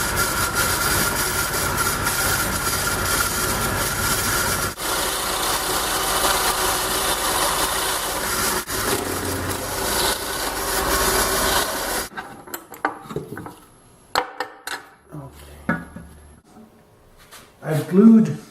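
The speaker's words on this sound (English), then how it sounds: "I'm going to use a 7/8 inch Forstner bit." A 7/8 inch Forstner bit bores a notch hole in a wooden part for a miter saw stand, giving a loud, steady whirring drone for about twelve seconds before it stops, followed by quieter scattered knocks and handling noises.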